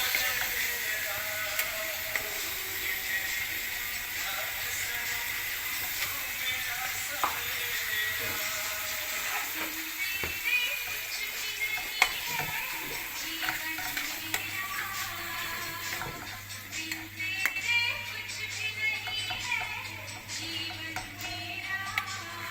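Medium-sized prawns frying in a pan, a faint continuous sizzle with occasional clinks and stirring scrapes, fairly close and moderately quiet throughout.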